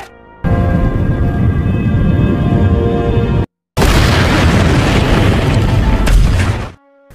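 A helicopter blowing up in an action film: two long, loud roaring explosion blasts with rumbling debris, separated by a brief silent cut, with a faint ringing tone in the first.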